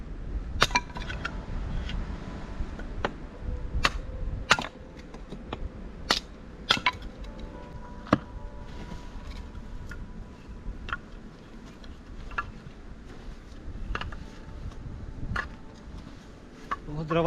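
Sharp wooden cracks ring out one after another, roughly every second, like an axe splitting thin pieces of dry firewood for kindling, over a low background rumble.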